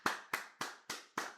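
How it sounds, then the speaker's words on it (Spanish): Five sharp, evenly spaced hand claps ring out fairly faintly, each with a short echoing tail, as applause welcomes a guest onto a stage. "Recibámoslos con un fuerte aplauso"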